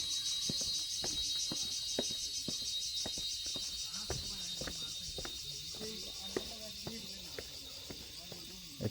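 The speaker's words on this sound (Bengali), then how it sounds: "ঝিঝি পোকা ডাকতেছে" Crickets near Alutila cave in Khagrachari keep up a dense, shrill chirring drone throughout, faint and steady, while people talk and footsteps tap nearby.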